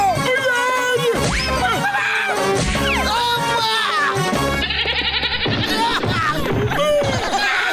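Cartoon goat bleating in repeated wavering cries, mixed with busy animated sound effects and music that carry on throughout, loud and near.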